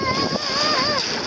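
Wake from a passing motorboat slaps against a small Pacer sailing dinghy, a steady watery rush with splashes close by, while people talk excitedly over it.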